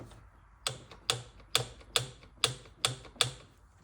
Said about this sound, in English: take a torque wrench and tighten it to 18 foot-pounds of torque, no more than 20